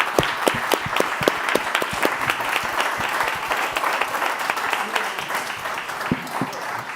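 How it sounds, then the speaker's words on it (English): Audience applause for panelists at the close of a conference session on AI and personalised learning in Madrid, dense sustained clapping with sharp individual claps standing out near the listener. "please give a big round of applause to our marvelous panelists"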